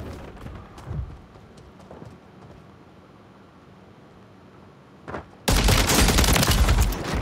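Loud, dense burst of shotgun fire in a video game erupts near the end, sustained and close, after a quieter stretch with a couple of faint thuds.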